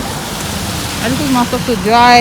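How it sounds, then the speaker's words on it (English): Steady rain hisses in the background while a person speaks over it, close to the microphone. "It is raining."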